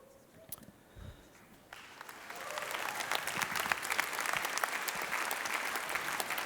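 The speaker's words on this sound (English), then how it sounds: "This applause, by the way, I hope all of our engineers that were streamed into all of our sites, I hope you hear the applause." Audience applause at a company presentation builds from near-silence into sustained, dense clapping, with a few faint sounds at the start before it swells and holds.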